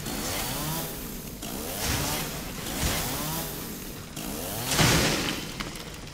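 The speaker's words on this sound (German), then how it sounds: "Ich habe jetzt eine Kettensäge." Chainsaw in the Resident Evil 7 video game, a steady buzzing engine drone that swells in repeated revving surges, fairly loud and continuous throughout.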